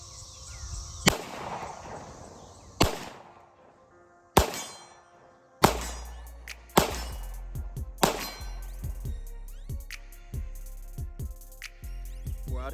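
Six shots from a Smith & Wesson SD 2.0 pistol fired at distant targets, each a sharp loud crack with ringing metallic clangs from steel plates, spaced irregularly with a sustained echo between them.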